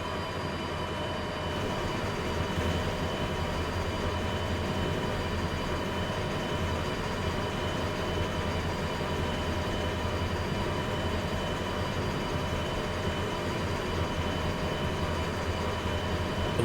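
A D6 locomotive running in the Derail Valley game, a steady droning engine hum with constant tonal whine and rumble, unchanging and close for the whole stretch, no voices.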